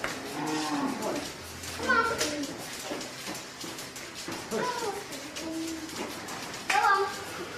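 Cattle low repeatedly on a biodynamic farm. Several drawn-out moos come at irregular intervals at moderate distance, with faint children's voices and outdoor ambience in between.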